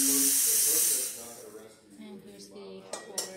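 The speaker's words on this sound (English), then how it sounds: "got good steam" Loud, steady hissing from the steam wand of an Izzo Alex Duetto espresso machine, which cuts off after about a second. Faint clinks and a brief voice follow.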